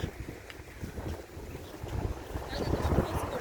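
Wind blowing across the microphone in low rumbling gusts that swell toward the end, with faint outdoor background noise.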